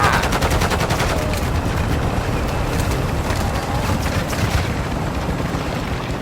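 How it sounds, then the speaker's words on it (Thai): Dense, continuous automatic gunfire and explosions fill a video game boss fight during the Shadow Siege event, with rapid overlapping shots that stay loud and near throughout. "ยิงบอสหน่อยดิ"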